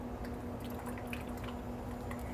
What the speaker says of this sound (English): so I'm going to rinse that with water